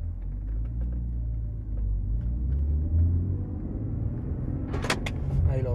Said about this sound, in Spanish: Metemos primera y cuando lleguemos aproximadamente a unos 16 km por hora, veremos cómo se cierran